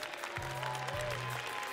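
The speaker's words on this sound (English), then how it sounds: "Please, a big round of applause for Rainy." Audience applause in a hall at a Final Fantasy XIV fan festival championship in Paris, fairly quiet steady clapping with a low hum underneath.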